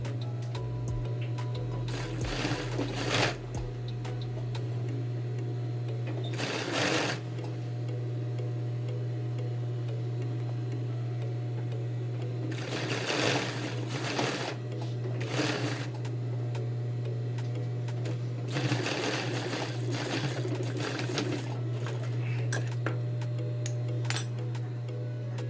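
A sewing machine topstitches along the edge of a shirt cuff in several short bursts of needle clatter over a constant low motor hum. Quieter pauses fall between the bursts while the work is adjusted.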